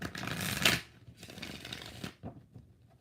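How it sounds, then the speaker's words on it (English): Tarot cards shuffled by hand in bursts of riffling, a loud flurry followed by a longer softer stretch and a brief final flick, close by with no talking. "Last shuffle."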